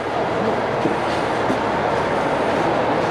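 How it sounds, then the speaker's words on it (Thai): A Yangon Circular Train in Myanmar rumbles steadily throughout, with a broad, continuous roar and faint rhythmic clatter of wheels on rails. "ตอนนี้รถไฟกำลังจะออกเดินทางแล้วนะ"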